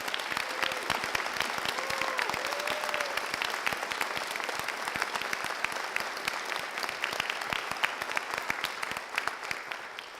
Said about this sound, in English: Would we give a round of applause to all our students?